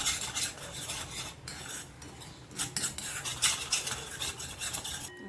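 A spoon stirs mango pulp in a pan on the stove, scraping and rasping steadily against the metal with light clinks, close and continuous with no talk.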